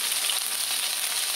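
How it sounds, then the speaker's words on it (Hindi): Masala fish, Sindhi style, frying in a pan with a steady, dense sizzle and crackle of hot oil, continuous and close, with no talk. "2 मिनट हो गए हैं और फिश बहुत शोर कर रही है"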